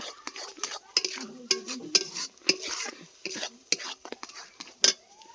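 A spoon scrapes and stirs semolina in a pan as it dries out for a vegetarian sweet, giving irregular clinks and scrapes against the metal along with soft rustling, close and fairly quiet.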